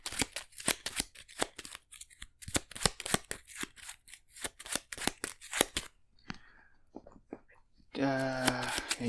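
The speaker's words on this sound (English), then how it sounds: "we need to shuffle in a card for the Explorer deck" Playing cards for the Arkham Horror card game being shuffled into a deck, a long run of crisp rapid riffles and snaps, then a brief pause before a burst of other noise at the end.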